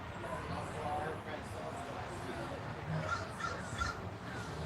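Crows caw several times in short bursts, a little distant and moderately loud, with a person talking lightly in the background.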